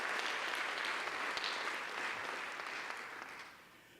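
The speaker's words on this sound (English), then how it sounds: "Let's just give him a round of applause here." Audience applause at a college president's fall 2018 speech: a dense, steady roll of clapping from a crowd that holds strong, then gradually thins and fades toward the end.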